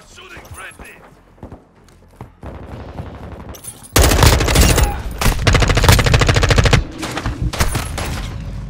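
Gunfire from Call of Duty Mobile: scattered shots at first, then loud, dense automatic bursts that rattle for several seconds before easing into lighter fire.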